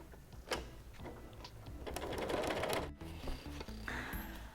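A sewing machine runs in uneven bursts as it stitches a patchwork nine-patch block, mechanical whirring and clatter rising through the middle, a brief stop, then more running, close and fairly quiet.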